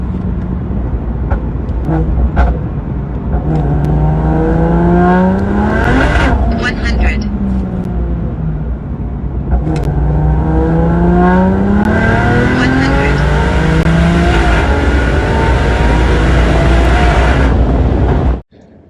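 A high-power BMW with an upgraded transmission revs up hard, pitch climbing then dropping at each gear change, with several shifts in a row, loud and close.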